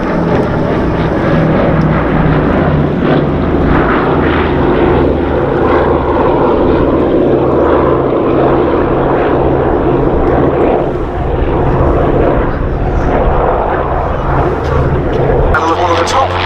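A propeller aircraft flies a display at the Duxford Air Festival 2019, its loud, steady engine drone filling the whole stretch while a commentator talks over it.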